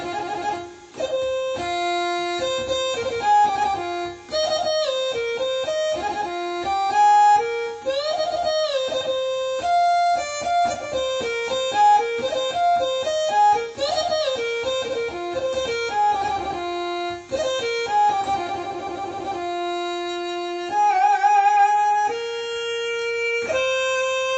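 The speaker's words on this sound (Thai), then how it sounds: "มานี่เป็นเสียงออกแกนครับ" An organ voice on a Korg TR keyboard plays a lively, continuous melody with bending, sliding notes and sustained tones, loud and up close, with no talking.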